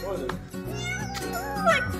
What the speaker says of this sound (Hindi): ये बिल्ली का बच्चा